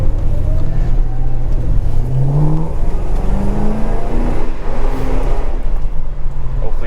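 A 2007 Ford Crown Victoria P-71 with Flowmaster 40 exhaust revs loud and close, engine pitch climbing and falling in several pulls over a constant deep exhaust rumble.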